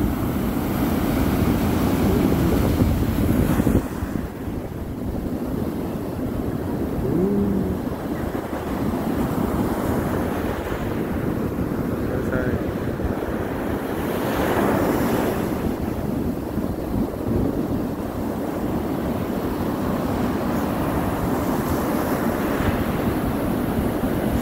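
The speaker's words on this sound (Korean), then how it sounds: "파도 진짜 엄청 크네." Big ocean waves crash continuously onto a sandy beach at Gyeongpo, a loud broadband roar with surging swells and heavy wind buffeting the microphone throughout, no talking.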